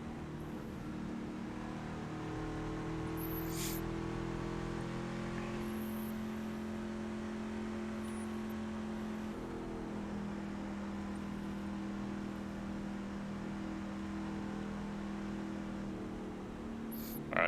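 A NASCAR truck racing at Phoenix Raceway in iRacing: a continuous droning engine hum with a steady pitch, then another truck passing close by, with faint clicks and short transient noises, no talk.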